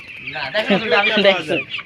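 A chicken from a poultry farm clucks in a quick, agitated run of squawks while being lifted, loud and close.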